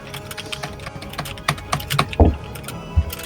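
Keys clatter on a computer keyboard in an irregular run of close taps, with a few louder, heavier strikes near the end; no one speaks.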